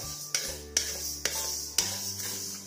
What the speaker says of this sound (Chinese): 接着我们来炒大米，同样是中小火，一直翻炒，炒至它微黄。